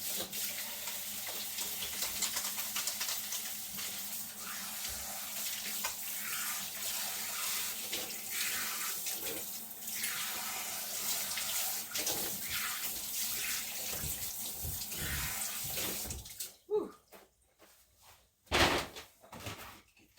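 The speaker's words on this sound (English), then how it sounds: "Just wash my hands." Tap water runs steadily into a sink for hands being washed, a continuous broadband rush that cuts off near the end, followed by a few handling knocks.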